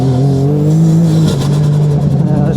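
A side-by-side UTV free rolling along a sand track, its engine note loud and close, pitch falling off as it coasts after a throttle lift, with a brief sputtering rattle at the end.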